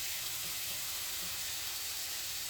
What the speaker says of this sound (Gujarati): ઓઇલ ગરમ થઈ ગયું છે તો આપણે સૌથી પહેલાં નાખીશું ઓનિયન